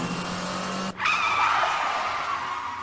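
A powerful car in The Hardy Boys adventure game: a steady engine drone cuts off abruptly, then loud, close tire skidding and squealing rises and holds before easing slightly at the end.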